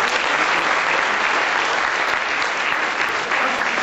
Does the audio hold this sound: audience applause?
yes